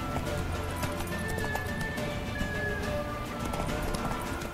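A horse in The Witcher 3 gallops with rapid, rhythmic hoofbeats and gives a thin whinny, moderately loud over a steady game ambience with no talking.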